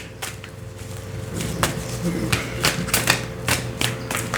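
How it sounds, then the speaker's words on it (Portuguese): Tarot cards being shuffled by hand, a run of crisp riffling taps and flutters close up against a quiet room, with a voice murmuring in the background. "Vou embaralhar novamente."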